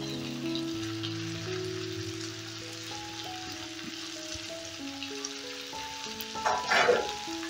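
Chicken fries in a pan with black pepper and green peas, a soft steady sizzle running beneath background music, with a brief louder burst of crackling and stirring near the end.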